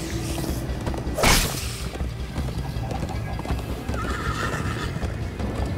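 Rhythmic hoofbeats of a galloping horse with a short neigh in Minecraft: Story Mode, set against a steady game soundtrack.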